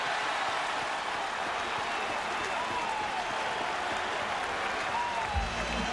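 Crowd at Shea Stadium during a 2000 World Series baseball game applauds and cheers, a wide continuous wash of clapping and crowd noise heard from a distance, steady throughout.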